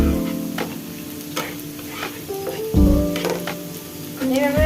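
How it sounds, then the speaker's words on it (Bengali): Khichuri tempering sizzles steadily in a pan as it is stirred and fried, with a few scraping strokes rising over continuous background music. "এইভাবে অল্প নেড়ে চেড়ে ভেজে নিতে হবে।"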